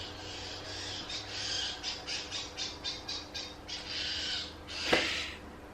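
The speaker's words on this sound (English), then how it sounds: "You can hear lots of birds." Many nesting birds with chicks squawking outdoors, a run of rhythmic harsh calls repeating roughly twice a second at moderate distance, ending in one louder, closer squawk.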